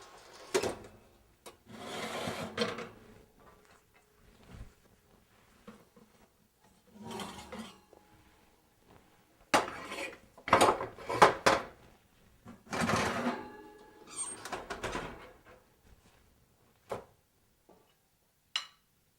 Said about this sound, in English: Remove cookies from oven.